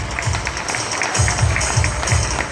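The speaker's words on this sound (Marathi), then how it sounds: "आपल्या सर्वांच्या जोरदार टाळ्या वाजत राहिल्या पाहिजे." Rhythmic, steady clapping from a seated audience fills a ceremony marking the 22nd anniversary of Dr. Pawar Hospital in Palus, where Rahibai Popere was honoured; the applause pulses in repeated waves without letup.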